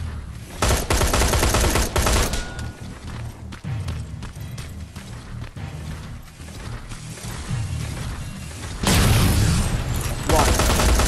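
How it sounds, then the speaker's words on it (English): Combat in the Terminator Resistance video game, with a loud grenade blast and dense, continuous gunfire and mechanical clatter, and a second heavy burst near the end. "What am I throwing a grenade for?"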